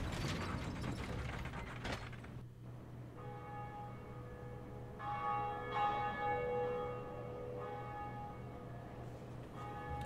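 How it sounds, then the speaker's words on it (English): Bell ringing in Dark Souls, with clanking, ratcheting machinery followed by repeated resonant metallic bell strikes that ring out with long sustained tones, no voices. "And now anyone else who's playing this will hear me ring the bell."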